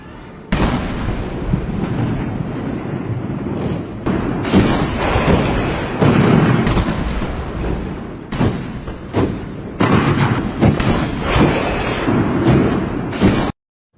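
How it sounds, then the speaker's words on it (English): An 80-gun artillery salute opens a Chinese military parade marking victory over Japan in World War II: loud, heavy booms fire in steady succession for about thirteen seconds, each blast rolling into the next with no voices. "So kicking off the spectacle was an 80-gun salute."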